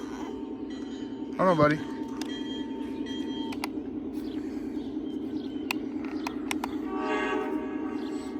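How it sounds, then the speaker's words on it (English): A Lionel garden-scale toy train's horn stuck on, droning as one steady, unbroken tone from start to finish, with a voice briefly speaking over it and a few sharp clicks and clanks nearby. "you got the horn stuck"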